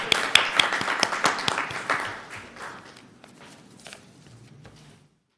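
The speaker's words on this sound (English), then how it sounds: "Now we can clap for our library team." An audience claps for a library team at a city council meeting, a loud burst of many hands that slowly thins and fades to scattered claps before stopping, with no talk.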